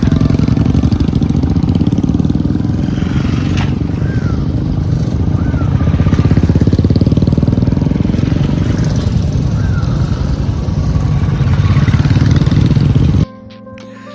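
A motorcycle engine drones loud and steady while riding winding back roads in rural Sri Lanka, with wind noise over the continuous engine hum until it cuts off near the end.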